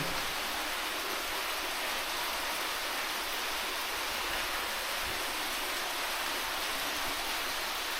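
Water gushes strongly and continuously at Tham Kaeo temple in Noen Maprang during the rainy season. It makes a loud, unbroken rushing roar that stays close and constant throughout.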